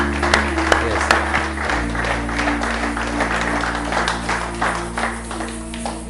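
A church congregation applauding, with continuous clapping from many hands and a sustained low musical drone beneath.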